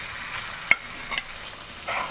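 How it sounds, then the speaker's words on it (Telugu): Raw prawns drop into onions frying in a pan for a gongura prawn curry, giving a sharp clack followed by soft scraping stirs over a faint, low sizzle. "ఇప్పుడు ఇందులో ఇందాక రెడీ చేసి పెట్టుకున్న రొయ్యలు మొత్తం వేసేయాలండి."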